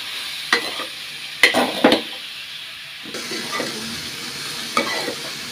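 Shredded cabbage fry with turmeric, cumin and coriander powder is stirred in a pan, with a few sharp spatula scrapes and knocks over a soft, quiet sizzle.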